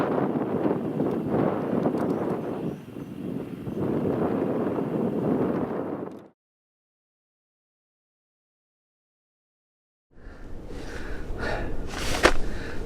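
Strong wind gusts batter the microphone on Shetland cliffs, a loud continuous rumbling buffet that cuts out to silence midway, then returns with harsher gusting.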